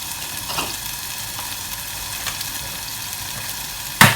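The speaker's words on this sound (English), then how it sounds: "And you sweat the onion down, just leave them sitting away." Onion sweating in a pan for prawn risotto, a steady even sizzle running throughout, close by, ending in a brief louder clatter.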